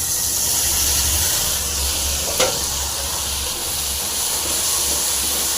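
Horse gram sundal hits a hot pan and sizzles, a steady, loud frying hiss that runs throughout, with a brief clatter partway through as the legumes tumble in.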